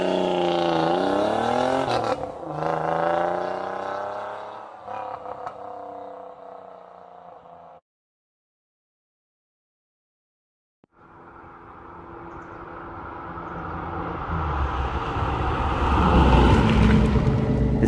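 Pontiac Fiero driving at highway speed of 65 mph, engine note rising and falling, then a gap of silence before road and engine noise swells again, loud and close with no talk.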